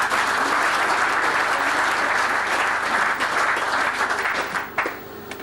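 Strong, sustained applause from a crowd at a 2003 indoor football cup draw event, steady dense clapping throughout that thins slightly near the end.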